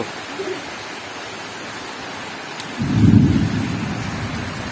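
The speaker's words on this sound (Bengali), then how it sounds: "তো এই হচ্ছে গ্রামের বৃষ্টি।" Steady monsoon rain hisses over a village, then a deep, loud roll of thunder swells midway and rumbles on beneath the downpour.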